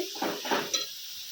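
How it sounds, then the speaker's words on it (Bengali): A utensil stirs spice masala in a pan for Bengali mutton kosha, giving a brief, close scraping and clinking with a faint sizzle. "দিয়ে এবার ভালো মতো একটু নাড়তে হবে।"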